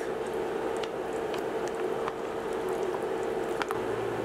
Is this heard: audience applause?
no